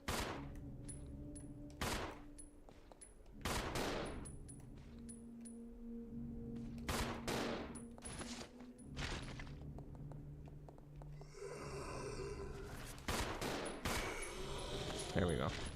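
Gunfire while shooting an enemy in the survival horror game Resident Evil Zero, a series of sharp separate shots spread across the stretch with quieter thuds and movement between them.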